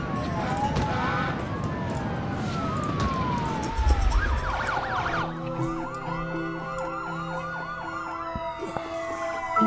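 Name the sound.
police car sirens in SimCity video game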